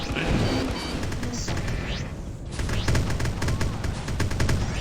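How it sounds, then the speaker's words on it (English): A frigate's guns fire during space combat in the game Freelancer, a dense, loud fusillade of rapid shots and crashing impacts that never lets up. "I love watching all its fucking guns go off."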